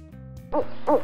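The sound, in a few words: owl hooting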